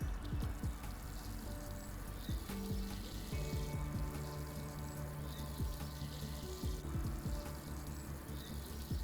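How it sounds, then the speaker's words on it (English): A freshly planted potted rose being watered in, a soft, steady pour and trickle of water heard close but quietly, continuing evenly with no speech. "Finally, we're going to water our rose in well."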